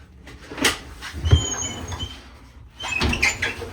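A glass shower door in a Big Horn 39RK fifth-wheel RV is handled, giving a few short clunks, rattles and sliding knocks spread across the moment, close and moderately loud with no talking.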